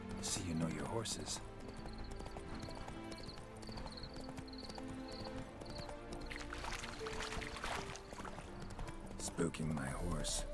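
Hooves of Roach, Geralt's horse in The Witcher 3, clip-clop steadily beneath game music and voices, with the horse whinnying as it is spooked by ghosts near an old mill.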